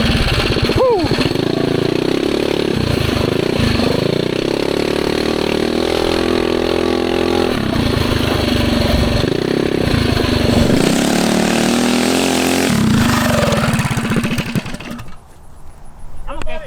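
A small mini bike engine runs loud and close during a backyard lap, its buzzing note repeatedly revving up and dropping back, then cutting out abruptly near the end.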